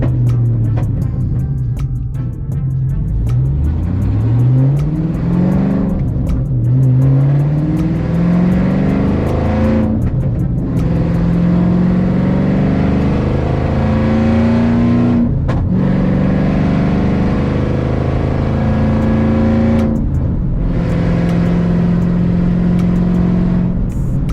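A loud, throaty straight-piped Shelby GT500 engine revs repeatedly, climbing in pitch through several gear pulls, with brief drops between shifts; no voices.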